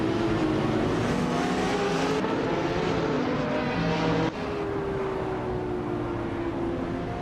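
Race cars, including a 2012 Zenvos T1, driving in a racing video game: loud, close engines hold steady, whining tones and shift pitch through gear changes, with no voices over them.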